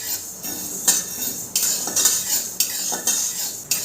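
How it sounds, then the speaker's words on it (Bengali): Whole coriander seeds are stirred and dry-roasted in a pan while spices are prepared for a raw mango pickle, with a spoon scraping and clinking against the metal about every half second under a faint sizzle. "ধনেগুলো একটু হালকা নেড়ে চেড়ে প্রথমে ভেজে নেব"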